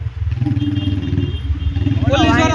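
A Royal Enfield Bullet motorcycle runs close by with a low, steady, rhythmic thumping beat. Voices talk over the engine, growing louder toward the end.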